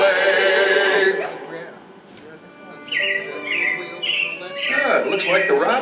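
Animatronic robins in the Carousel of Progress show chirping and whistling in short repeated phrases, close and clear, following the fading end of music.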